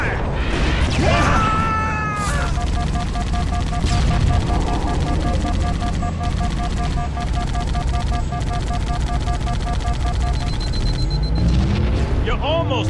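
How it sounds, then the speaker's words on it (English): Covenant mortar tanks firing in Halo: Combat Evolved, loud booming blasts and rapid gunfire mixed with in-game voices and tonal effects at a busy tunnel entrance. "Enemy mortar tanks sighted at my position."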